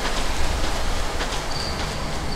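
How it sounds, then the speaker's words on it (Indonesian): A train or car rumbling past outside a building, a steady broadband roar with faint rail-like clatter that holds at an even level throughout, with no talk over it. "kereta kat luar"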